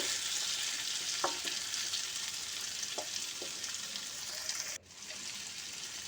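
Chopped tomato and onion fry in a pan with a steady, soft sizzle, punctuated by a few light scraping stirs, the hiss briefly cutting out near the end before resuming; no talking.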